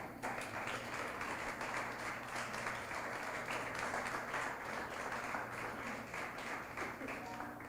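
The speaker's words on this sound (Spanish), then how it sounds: "¿Cuánto aplauden fuerte a Jesús?" Church congregation applauding during a sermon, a steady dense wash of clapping held at an even level throughout, with a low hum underneath.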